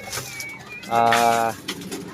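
Pigeons coo in a single low, drawn-out call lasting about half a second, rising clearly above soft background noise with brief faint rustles before and after.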